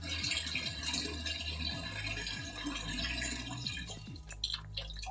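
Water running into a Samsung WA85G5 top-loading washing machine with the tap at its lowest setting, a steady trickling and dripping flow with some light rattling, continuous and close.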